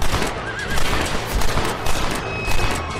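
In the Western video game Red Dead Redemption, dense gunfire crackles loudly and continuously, and a horse whinnies briefly amid the shooting.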